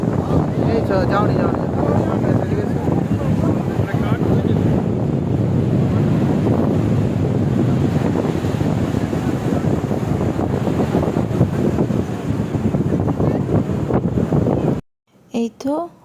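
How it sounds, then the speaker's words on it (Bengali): Night sea wind and surf on Puri beach, a loud, constant roar of wind buffeting the microphone over breaking waves, ending in a brief gap and a short burst of sound. "এই তো সমুদ্রের হাওয়া খাওয়া হয়ে গেল একটু"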